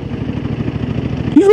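A Yamaha MT-07 motorcycle with the Y-AMT automatic gearbox runs with a steady, throbbing engine pulse, then a short rising whine and rev at the very end.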